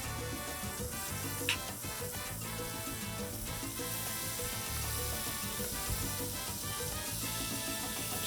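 Butter sizzling and frying on a hot Blackstone griddle, a continuous crackling hiss with a scrape or two of a utensil, steady and close without any talk.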